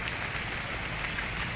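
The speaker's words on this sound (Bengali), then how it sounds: "তাল কুড়োতে এসে বৃষ্টি শুরু হয়ে গেল" Rain falls outdoors in a steady, even hiss of dense drops, moderately close and constant throughout the short stretch, with no voices.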